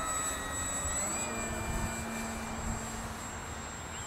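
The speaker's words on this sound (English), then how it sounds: "it's a nice scale looking plane and it flies quite scale" A Super Cub RC model plane flies in wind with a steady electric motor whine that shifts pitch slightly. A constant rush of wind noise sits underneath throughout.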